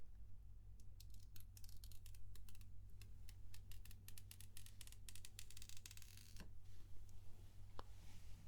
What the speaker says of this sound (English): So let's just peel the little tab off the top.